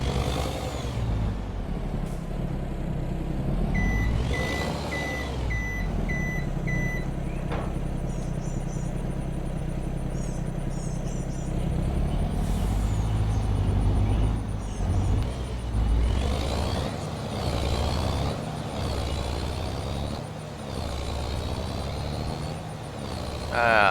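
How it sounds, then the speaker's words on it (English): A big truck engine in the video game Farming Simulator 22 rumbles and revs continuously, with air brake hisses, small electronic beeps and occasional talk over it. "I love the way this truck sounds."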